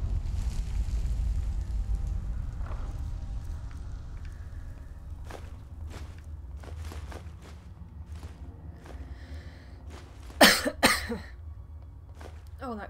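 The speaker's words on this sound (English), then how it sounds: "Cough came out of effing nowhere." A person coughs sharply a few times up close, a brief harsh burst standing out over quiet background noise and scattered clicks.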